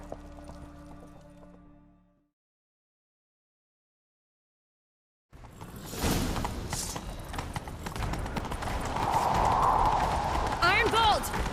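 Horse galloping in The Witcher 3, steady clip-clop hoofbeats rising loud and close after a brief silence, joined by game sounds and voices speaking over the ride.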